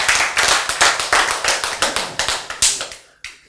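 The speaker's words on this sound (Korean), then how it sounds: "박수." Audience applause in a church sermon setting, a burst of scattered, fairly loud hand claps that thin out and fade toward the end, with no talking over it.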